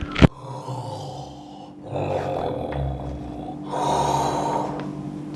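A storyteller imitates a sleeping wolf snoring loudly, with a sharp snort at the start followed by long, rasping, growly breaths in and out, close and loud, with no words spoken.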